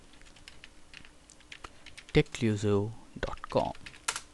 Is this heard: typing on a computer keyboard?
yes